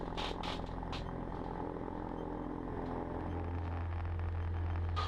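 A Cessna 150 engine runs at full power on the takeoff roll, droning loud and steady from inside the cabin. A low tone strengthens partway through as the run builds.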